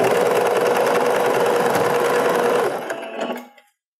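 A sewing machine stitches elastic onto lycra for lace-trimmed panties, running in a fast, even whir for a few seconds, then slowing in short bursts and stopping, with no talk.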